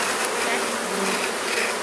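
Honey bees buzzing loudly and continuously around a hive, a dense close swarm hum with no voices.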